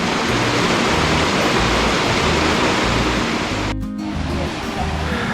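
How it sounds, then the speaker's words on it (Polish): Water pours out of stone troughs in Sapadere Canyon, Turkey, a steady close rush of splashing flow that runs unbroken apart from one brief dip near the end. "Z korytek wylewa się tutaj woda."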